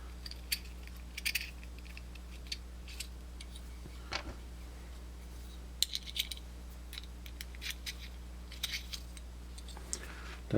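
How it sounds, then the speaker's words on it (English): A Torx screwdriver drives screws into a Blackhawk offset flashlight rail mount, giving small scattered metallic clicks and ticks at close range over a steady low hum. "We use that Torx one to put in the screws here."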